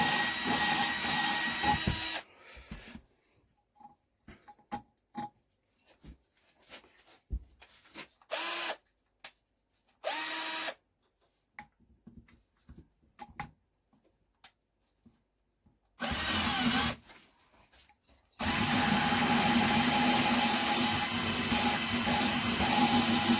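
Valves being ground into a Douglas engine cylinder head during a rebuild, giving bursts of rough rubbing and grinding that stop and start between quiet gaps, with longer sustained stretches of close, steady abrasion.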